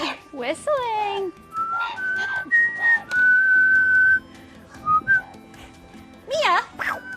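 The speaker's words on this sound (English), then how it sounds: "Whistling." Someone whistles nearby while painting with parrots and chickens. Short, clear whistled notes and sliding tones come in several separate phrases, with people talking in between.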